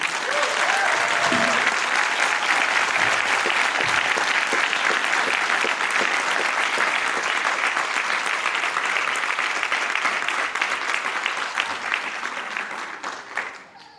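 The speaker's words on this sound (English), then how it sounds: "Let us put our hands together loud, long, and resoundingly for our young people." Loud, sustained applause from a large audience at an education equity summit keynote, dense clapping that continues steadily before gradually fading out at the end.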